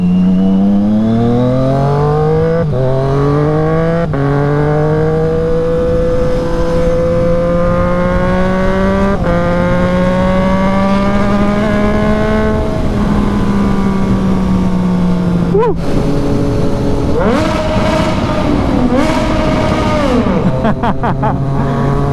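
A Triumph Street Triple RS motorcycle engine revs loudly and close, its pitch climbing and dropping in repeated sweeps, with a few sharp blips, through a continuous roar.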